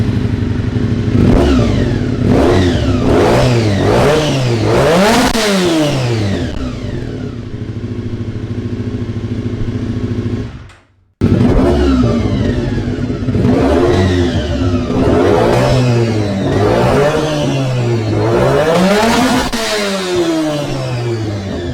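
A Triumph Trident 660 motorcycle engine revs loudly up and down in repeated sharp bursts, falls back to idle, cuts out briefly, then revs hard again several times, close up.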